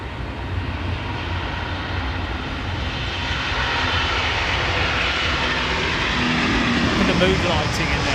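Boeing 787-8 jet engines roar steadily at Heathrow Airport, a loud, continuous broadband rumble that swells slightly toward the end, with a person talking over it.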